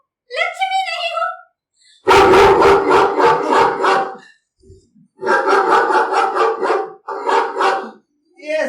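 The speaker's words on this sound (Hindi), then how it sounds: "ये साधु बाबू को कुत्ते की रुलाई एकदम नापसंद है।" Dog barking in repeated loud bursts mixed with whimpering, crying yelps, with pauses between bouts and brief human vocal sounds in between.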